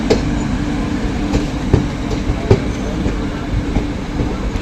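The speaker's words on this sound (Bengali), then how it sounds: "আইটে ট্রেন এখন মালদা টাউনে নামলো।" A train rolls into Malda Town station with a loud, continuous rumble and a regular clickety-clack of wheels over rail joints, close by and alone.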